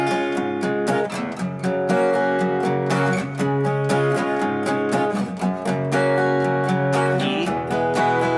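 Electric guitar plays the B section of a song in steady, rhythmic strummed chords. The playing is loud and close, with no talking.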